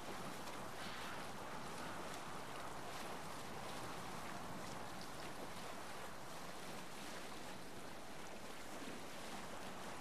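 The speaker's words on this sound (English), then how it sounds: "Ah, sailing on the ship." Ship sailing the open sea in Assassin's Creed Valhalla, with steady broadband rush of waves and wind washing against the hull, constant and loud for the whole stretch, no voices.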